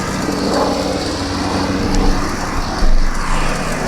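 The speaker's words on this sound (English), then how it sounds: "That wasn't the medevac chopper. That was a Blackhawk. This is an Army chopper." A loud Army Black Hawk helicopter drones overhead, a steady roar with throbbing swells, close and with no talking.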